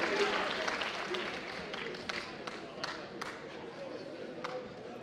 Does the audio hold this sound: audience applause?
yes